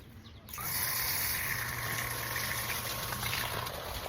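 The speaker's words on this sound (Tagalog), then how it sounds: "Saka lang po ito aandar kapag po bubuksan po yung outlet na para sa tubig." A Reaim intelligent automatic water pump starts up as the water outlet is opened, shifting from quiet to a steady, loud gushing hum of pumped water that holds through the rest of the clip.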